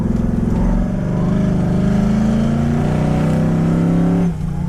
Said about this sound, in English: Let's go ahead and drift.